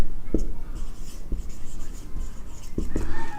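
Pen or pencil writing math on paper: a steady scratchy rustle with a few sharper taps of the tip striking the page, close and fairly quiet, no talking.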